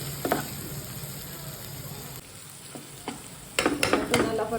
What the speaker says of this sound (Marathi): टोमॅटो परतून घ्यायचा